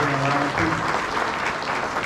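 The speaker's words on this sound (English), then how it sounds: "Big round of applause for everybody." An audience at a 2023 variety show claps steadily, a dense, even wash of applause from many hands sustained throughout.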